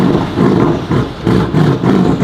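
Rebuilt G-body car with a 1500-horsepower build and only a downpipe for exhaust, revving hard in several loud, raw, rumbling surges close to the listener, each roar rising and dropping back briefly between pulls.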